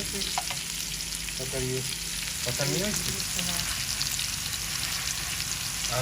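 Onions frying in a pan with garlic as the base for a chicken and potato curry: a loud, continuous close sizzle with occasional stirring scrapes.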